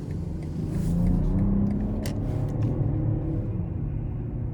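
A 2023 BMW 740i in sport mode pulls away with a deep, steady engine rumble that swells briefly and then holds at a strong, even level, heard from inside the cabin.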